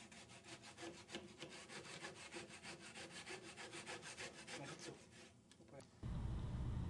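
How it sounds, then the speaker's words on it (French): Hand saw cutting through a wooden moulding in fast, even back-and-forth strokes, close and quiet for about five seconds before the sawing stops and a low rumble takes over. "Découpez cette moulure."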